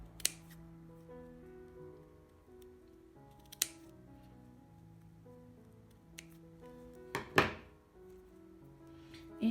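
Scissors cut through fabric for a simple sewing project, a rabbit drawstring pouch, giving a few scattered snips and clicks close by in an otherwise quiet room, with one louder snip near the end.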